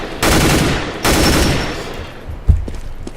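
Counter-Strike rifle fire sprayed in controlled bursts: two loud sustained automatic volleys, the second trailing off, then a sharp single thump near the end, close and alone with no talk.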